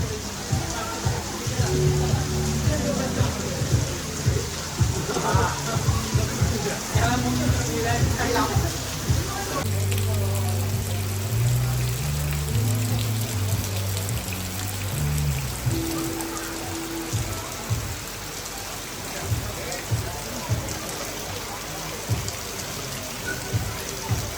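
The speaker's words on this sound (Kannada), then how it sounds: "ಫುಲ್ಲು ಮಳೆ." Heavy rain at Mango Mist Resort in Bangalore pours in a dense, continuous hiss, with people talking over it for most of the stretch.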